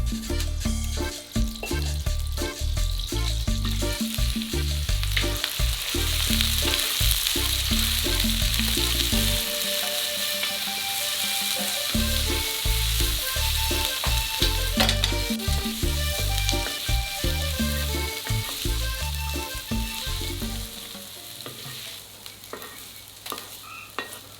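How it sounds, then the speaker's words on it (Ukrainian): Onions sizzle steadily in a hot pan while cooking pilaf, with repeated stirring and scraping throughout and no talking. "Слідом смажимо цибулю."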